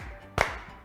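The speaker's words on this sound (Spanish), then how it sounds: "Abro y aplaudo." A single sharp hand clap, close and brief, in a primary school class.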